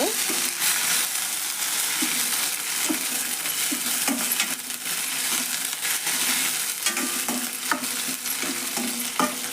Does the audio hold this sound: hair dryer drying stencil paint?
no